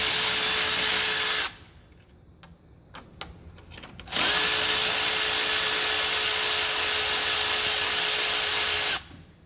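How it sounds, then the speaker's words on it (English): Power tool drilling on a small engine's carburetor studs, likely an impact or electric driver with a 10mm socket spinning nuts off; a loud steady whine runs for a few seconds, pauses with light clicks, then resumes for several more seconds, no talk. "We take the same 10mm socket and we take the next set of nuts off of the carburetor studs."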